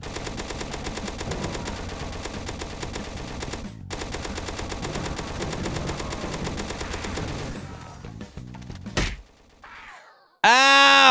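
Roblox gunfire rattles in sustained rapid automatic bursts during a zombie shooter, then breaks into a few separate thuds and ends with a sudden loud burst.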